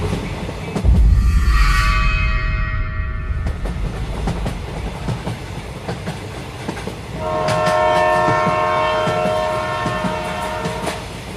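An express train rushes past with a long blaring horn, rolling wagon noise and clattering wheels, then a second horn blast sounds as it continues, with no voices.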